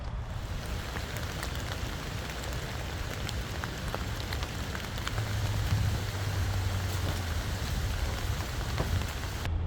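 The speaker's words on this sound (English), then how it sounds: "It's kind of raining still, but not as much as it was." Steady rain falling on a shopping mall tree island, a dense, continuous patter close around, with no voices.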